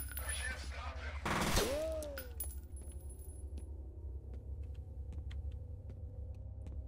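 Gunfire in the video game F.E.A.R.: a loud burst of shots early on, followed by a quieter stretch of scattered sharp clicks and impacts over a low, steady rumble.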